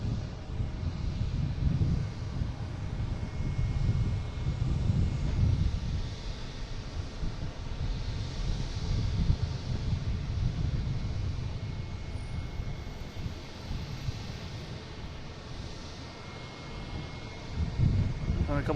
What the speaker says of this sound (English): A couple big planes coming in, it sounds like.